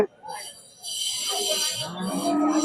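A cow at a cattle market gives a long, drawn-out moo that rises and holds, close and fairly loud, with faint background voices and noise.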